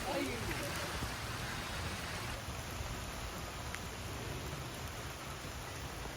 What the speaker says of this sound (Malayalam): ഞങ്ങളിവിടെ എത്തിയപ്പോഴും ചെറിയ തോതിലൊക്കെ മഴ പെയ്യുന്നുണ്ടായിരുന്നു.